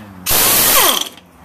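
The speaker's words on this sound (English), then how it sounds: "I'm just going to pull this off now with my impact wrench here" An impact wrench removes a retainer during a gear swap on a Toyota Tacoma. It gives one loud, close burst of rapid hammering ratchet whir lasting under a second, then winds down and stops.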